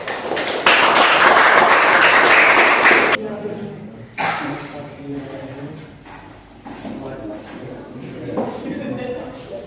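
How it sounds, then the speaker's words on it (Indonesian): A classroom of students bursts into steady, dense clapping for a presenting group during a teacher-training lesson in Manado, Indonesia; the applause lasts about two and a half seconds and then gives way to a teacher talking. "Kita kasih tepuk tangan untuk kelompok 3."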